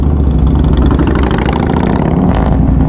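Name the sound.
V-twin naked street bike engine revving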